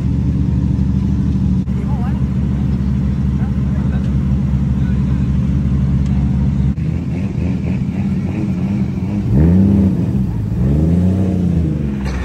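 A car engine hums steadily and then revs in rising, wavering surges near the end, during a staged street crash scene filmed in Bukit Bintang by KLCC, with continuous background traffic noise and some talk mixed in.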